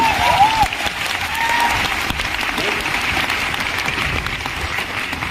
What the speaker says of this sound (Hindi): मेरा ख्याल से उन लोगों के लिए भी तालियां जरूर होनी चाहिए